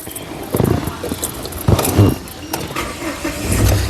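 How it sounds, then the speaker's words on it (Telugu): A 2016 Mahindra Scorpio S6 Plus SUV starts on a single crank: a short starter burst, then the engine catches and runs close by, with a brief voice in the background. "ఈ కార్ సింగిల్ సెల్ఫ్లో స్టార్ట్ అవుతుందా లేదా అన్న చూపిస్తున్నాను"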